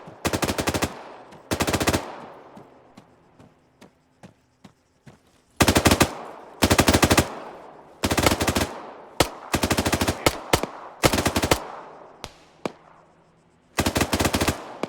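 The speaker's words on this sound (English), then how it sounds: "we are under fire from the base" Loud bursts of automatic gunfire from an enemy base in a military video game, coming in repeated close volleys of rapid shots separated by short pauses.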